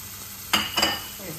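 Boneless chicken cooks on a tawa as spices go in, a low steady sizzle broken by two quick clattering scrapes of a utensil against the pan.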